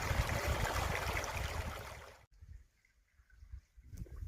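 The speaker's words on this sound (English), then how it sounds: "You don't see this kind of water running out here in the superstitions that often." Running stream water along a hiking trail in the Superstition Mountains, a steady broadband rush that is loud for the first two seconds, then cuts off abruptly, leaving only faint trickling and quiet outdoor ambience.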